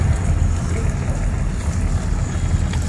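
Continuous loud rumble of a boat on open water, with steady engine drone, wind buffeting and wave wash, heard close and without any talking.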